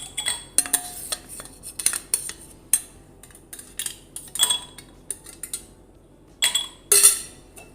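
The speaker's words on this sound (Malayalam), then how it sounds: "ഇതേപോലെ തന്നെ നമുക്ക് കുറച്ച് ഐസ് ഇട്ട് കൊടുക്കാം." Ice cubes clink and rattle into a glass before juice is poured, giving a series of sharp, close clatters and chinks with a louder burst near the end, and no voices.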